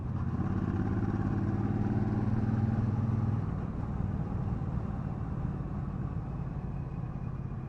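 A Triumph Bobber Black 1200 motorcycle cruising on back roads gives a steady, rumbling engine drone with a low throb that fades slightly partway through, heard alone over continuous wind-like noise.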